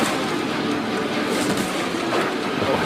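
Steady, loud rumble of a train running in the Choo-Choo Charles video game, a continuous rolling rail clatter with no pauses and no voices.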